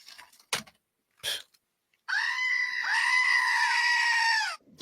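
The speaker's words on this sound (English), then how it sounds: "Goat scream, please." A goat lets out one long, loud, human-like scream that wavers in pitch for a couple of seconds, preceded by a few short, sharp bursts of noise.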